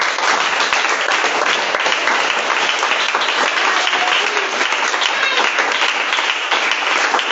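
A church audience applauds and cheers for Jesus, loud and continuous clapping from a large crowd that holds steady for the whole stretch without a break.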